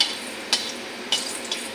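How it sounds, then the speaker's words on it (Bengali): Dried red chilli frying in hot oil in a kadai gives a steady close sizzle with a few sharp pops and crackles spaced through it. No one speaks. "শুকনো লঙ্কাটা লাল লাল করে ভাজা করে নেব।"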